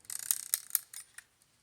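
An old wind-up travel alarm clock being wound by hand: a quick run of bright ratcheting clicks, close and crisp, fading out after about a second.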